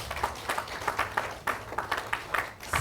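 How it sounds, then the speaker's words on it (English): An audience claps at an International Women's Day celebration in Nakuru County, Kenya, with a dense, steady patter of hands and several louder bursts rising above it, no voices over it. "Clap for them."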